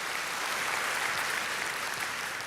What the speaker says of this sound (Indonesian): kalau mau tepuk tangan ya meriah dong saudaraku